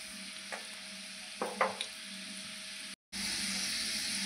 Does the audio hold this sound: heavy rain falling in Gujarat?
no